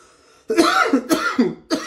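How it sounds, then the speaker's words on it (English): A person coughs several times in quick succession, harsh and close, after a brief quiet moment. "that was a cough, not excuse"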